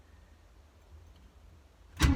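A Chevrolet S10 Blazer with a suspected bad engine ground cranks over after a near-silent pause, its starter and engine giving a sudden loud burst right at the end.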